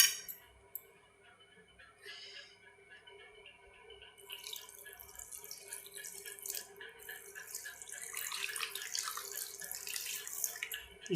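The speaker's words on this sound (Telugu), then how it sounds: "ఇందులో కొంచెం వాటర్ వేసి కలుపుక" A glass of water is poured into a pan of spicy, tangy gherkin (chinthakaya) curry, beginning quietly and building into a steady, bright splashing pour that grows louder toward the end, with no voices.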